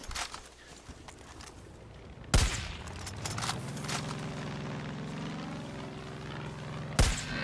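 Loud gunshots in the video game Far Cry 5, two sharp reports several seconds apart, each cracking over quieter game ambience and a low droning hum.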